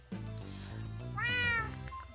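A cat meows in a Sky Factory 2.5 Minecraft game, a rising, drawn-out mew rolling over steady in-game music, clear and fairly close for about a second.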